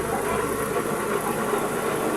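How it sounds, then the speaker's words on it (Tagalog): Motor of a single-tub washing machine spinning in reverse, a steady mid-pitched hum with faint vibration, continuous and close with no pauses. "Umiikot na po ang kanyang pinaka-motor."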